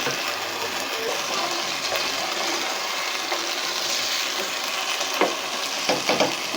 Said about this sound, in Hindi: ये देखिए आधा गिलास पानी डाल रही हूँ।